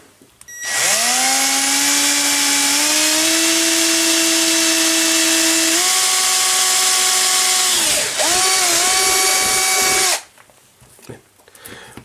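An electric drill whines loudly at a steady high pitch for several seconds boring an 8 mm hole in a box, dips briefly, revs again, then stops.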